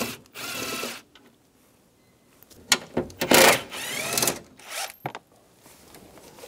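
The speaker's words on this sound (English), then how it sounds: "Remove these screws underneath using a 7mm socket." A ratchet with a 7mm socket removes screws under the dash panel of a 1999-2006 Chevrolet Silverado 1500. Several short, close zipping and clicking bursts are separated by quiet gaps, with no talking.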